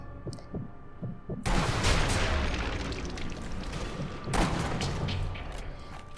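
Rifle gunfire in the World War II sniper shooter Sniper Elite V2, sounding as two loud, booming blasts about three seconds apart, each followed by a long rumbling tail of echo and debris.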